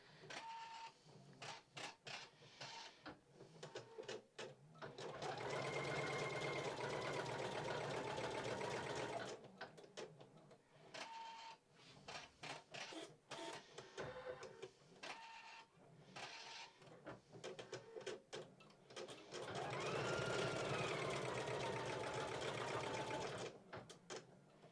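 An embroidery machine stitches out a design in repeated bursts of rapid mechanical needle stitching, pausing between runs, fairly close and clear with no talk.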